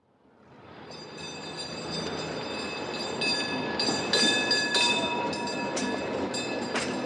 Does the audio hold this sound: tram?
yes